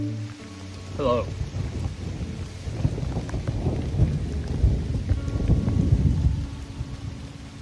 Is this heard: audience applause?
no